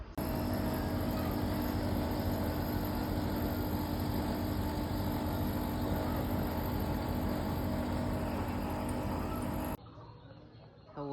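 A Mitsubishi 1-ton air conditioner runs with a newly fitted compressor, giving a loud, steady broadband drone with a constant hum. It cuts off abruptly near the end, leaving quieter background sound.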